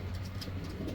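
An old-bird racing pigeon, home from a 150-mile race, gives a low, soft coo close by. A steady murmuring hum runs beneath it, and faint outdoor noise surrounds it, with no talking.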